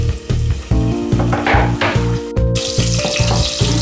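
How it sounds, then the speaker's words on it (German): Onions hit hot oil in a heated pot for chicken soup, producing a loud, steady frying hiss with a sudden burst of crackling midway. Strong rhythmic low pulsing runs underneath. "So, unser Topf ist heiß. Wir geben hier Öl dazu. Und hauen unsere Zwiebeln rein."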